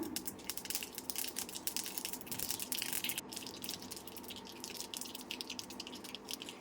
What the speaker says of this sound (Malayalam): കടുക് പൊട്ടിയതിന് ശേഷം രണ്ട് വറ്റൽമുളകും